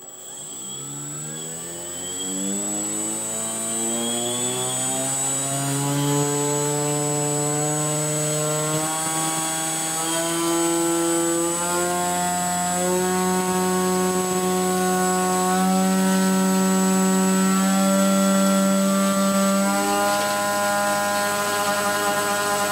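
A brand-new electric motor on a pizza-box model airplane whines loudly and steadily as its throttle is raised, the pitch climbing over several seconds and then holding high, heard close up with no talk.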